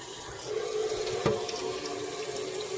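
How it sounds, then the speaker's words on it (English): Running tap water pours steadily into a kitchen sink over cooked penne pasta, a continuous splashing hiss with a brief clatter partway through. "So I'm going to just rinse those off."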